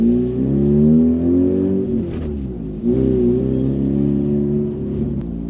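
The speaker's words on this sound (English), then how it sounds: "it does make a very nice engine noise" A Mazda RX-8 (SE3P) with a rotary engine and manual gearbox accelerates, heard from the interior as a loud, smooth rising whine with a brief dip as a gear changes, then rising again, no talk.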